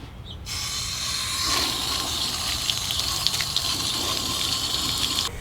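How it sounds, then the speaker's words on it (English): Water gushes steadily from a tap or hose as conditioner is rinsed off a boot, a continuous hissing splash at close range with no talk. "now we're going to rinse the conditioner off and make sure that the surface of the boot is damp"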